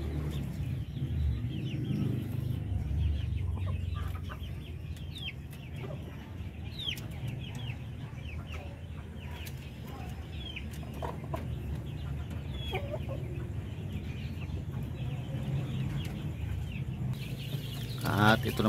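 Jumbo Orpington chickens clucking on a native chicken farm: scattered soft clucks and calls over a steady low farmyard hum, with a voice talking nearby.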